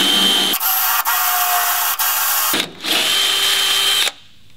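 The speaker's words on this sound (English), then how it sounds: "Drill a 5/32 hole at your marked location" A power drill whirs loudly and steadily, pausing briefly a few times as it bores a 5/32-inch hole in a 1963–82 Corvette, then winds down to a low hum.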